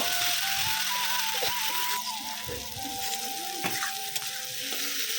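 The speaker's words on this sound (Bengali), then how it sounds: "এবারে এটাকে আমি ভাজা ভাজা করে নেব" A steady sizzle of spices, turmeric, salt and tomato frying in a pan, with a musical tone humming in the background and occasional stirring clatter.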